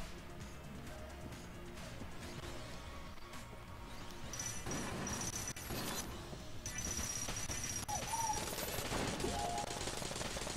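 The nail gun weapon in Exit the Gungeon fires continuously: rapid, repeated shots with crashing game effects, moderately loud and sustained throughout.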